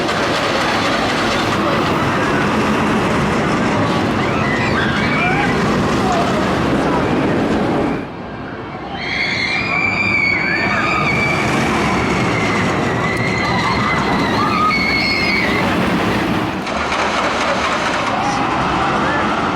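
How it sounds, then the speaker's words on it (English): Loud, continuous rumble and roar of the Loch Ness Monster, a 1978 Arrow looping roller coaster with interlocking loops at Busch Gardens Williamsburg, with rattling wheels and brief high squeals partway through, heard from on board. "114th credit is going to be Loch Ness Monster, the aerodynamics looping coaster"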